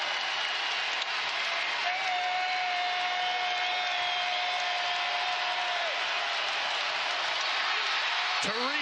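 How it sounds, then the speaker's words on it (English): Basketball arena crowd at a Texas Tech vs Kansas State men's college game, a steady loud roar and cheering throughout with a whistle-like tone midway and a brief sharp sound near the end, commentators talking over it. "This crowd might get more excited on the defensive plays than the offensive plays."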